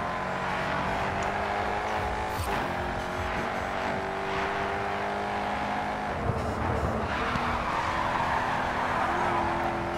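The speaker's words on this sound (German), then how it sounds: "Er driftet sogar ganz angenehm." Bugatti race car drifting in the racing game GRID 2, a continuous loud engine roar with tire squeal and skidding texture, sustained throughout with brief surges, no talk.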